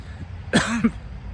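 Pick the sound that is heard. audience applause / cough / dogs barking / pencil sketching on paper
cough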